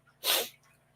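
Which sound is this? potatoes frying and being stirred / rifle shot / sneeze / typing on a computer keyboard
sneeze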